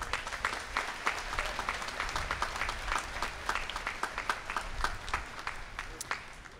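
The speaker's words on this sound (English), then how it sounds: "Please give them a round of applause." Applause at a law school commencement ceremony, a crowd clapping in a steady uneven patter with some sharper individual claps, fairly distant in a large space, with a voice faintly underneath.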